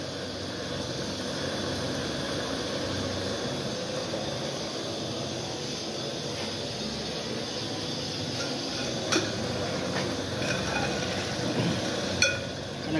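Meat going into a pot for Peshawari namkeen gosht gives a steady, close sizzle and hiss of frying throughout, with a few faint clinks of utensils near the end.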